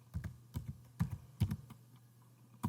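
Keys clacking on a computer keyboard as quantities are typed in and Enter is pressed: several quick bursts of clicks at an irregular rhythm, close and fairly quiet, with no talking.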